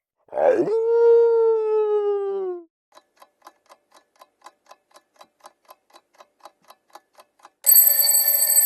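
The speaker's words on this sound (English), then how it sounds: "It's a wolf." A single long wolf howl rising then sliding down, followed by soft regular ticking and a loud ringing bell at the end.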